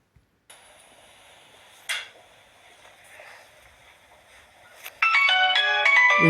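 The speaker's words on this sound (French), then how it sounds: "Une sonnerie de Nokia remixée encore et toujours une fois." A remixed Nokia ringtone bursts in loud and bright after a few seconds of quiet, faint electronic tones, its melody playing in quick stepped synth notes with no talking over it.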